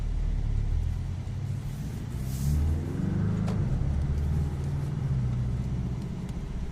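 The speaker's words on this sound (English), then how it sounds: "you can hear the throttle get a little bit opened up" Inside a 2017 Porsche 718 Boxster S, a turbocharged cabriolet in sport mode, the engine rumbles and rises briefly as the throttle opens, with a steady low road drone throughout.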